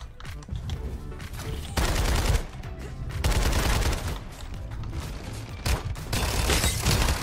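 Rapid automatic fire from an M4 assault rifle in the battle royale game Farlight 84, loud sustained bursts broken by short pauses, with dense rattling shots throughout.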